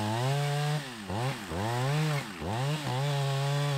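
A chainsaw engine roars steadily close by, its pitch dipping and rising several times as the chain cuts down into a windblown tree trunk.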